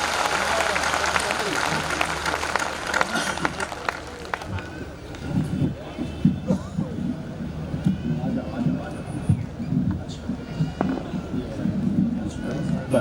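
An audience at a Hindi comic poetry recital claps loudly and steadily, a dense wash of applause filling the hall from start to finish, with voices speaking over it.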